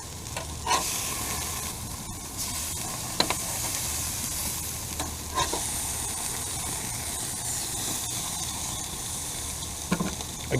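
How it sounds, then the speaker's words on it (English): Burgers fry on an RV stove, giving a steady, close sizzle and hiss with scattered pops and scrapes. No one speaks over it. "Can you hear the sizzle?"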